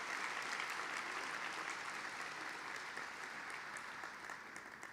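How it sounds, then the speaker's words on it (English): Sustained applause from the audience at a School of Medicine commencement ceremony, a steady dense wash of many hands clapping that holds loud for about five seconds and then eases slightly toward the end. "yes, let's applaud that"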